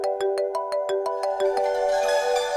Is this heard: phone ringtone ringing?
yes